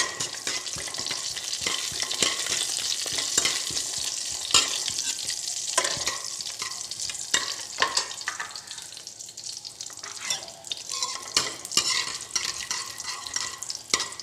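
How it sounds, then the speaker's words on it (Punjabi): Continuous sizzling of cumin seeds in desi ghee, with crisp crackles and pops, interrupted by occasional stirring clinks, close and fairly loud throughout. "ਜੀਰਾ ਆਪਣਾ ਕੜਕਣ ਲਾ ਕੇ ਦੇਖੋ"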